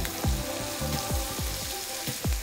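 Onions and garlic frying in a pan, a steady close sizzle with repeated rhythmic scraping strokes from stirring.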